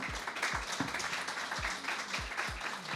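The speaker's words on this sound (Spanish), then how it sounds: "Otro aplauso para usted." An audience applauds a doctor on a diabetes health program, with steady clapping throughout and periodic low thumps underneath.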